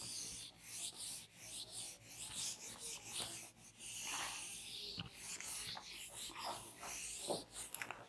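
Writing being rubbed off a classroom board, a steady run of close, scratchy rubbing strokes in repeated bursts with brief pauses between them.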